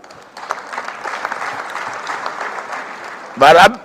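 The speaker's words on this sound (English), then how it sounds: "I don't know why they are keeping clapping" A crowd claps steadily at a Democracy Day gathering in Nigeria, moderately loud, ending in a short louder burst of sound.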